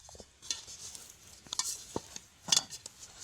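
Soft nimki dough being kneaded by hand, pressed and worked repeatedly: quiet squishing, slapping and tapping sounds in an irregular rhythm, close up, with faint clinks from a bowl or utensils.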